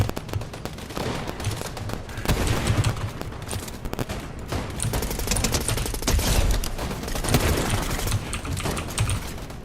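Enemy players' gunfire in the Fortnite battle royale video game: rapid, sustained volleys of shots crackling continuously at moderate loudness, with no voices over them.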